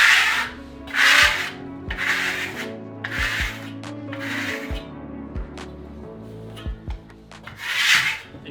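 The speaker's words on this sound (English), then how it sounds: "And you want to burnish in all the directions to kind of push the plaster around a little bit." A steel trowel burnishes matte Venetian plaster on a board, giving repeated close, raspy rubbing strokes in a steady back-and-forth rhythm, with a few light taps of the blade between passes.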